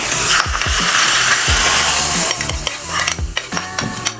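Hot tadka poured into bathua raita in a kitchen, bursting into a loud, crackling sizzle with sharp pops and spatter that continue throughout, close up and alone.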